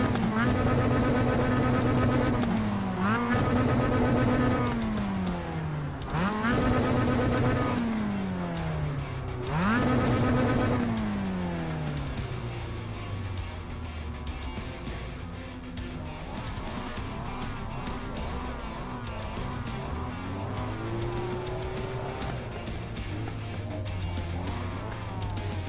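Mazda MX-5 Miata race car in the iRacing simulator, its engine repeatedly revving up through the gears and dropping on shifts, loud and continuous, with a steadier drone and pitch swings in the later half.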